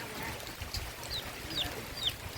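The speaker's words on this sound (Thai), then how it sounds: "ไก่สองตัว" Chickens on a rural homestead cluck faintly in a few short, scattered calls over low background noise, with no talk.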